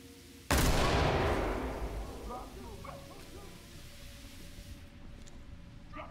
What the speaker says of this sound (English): Readying flashbang.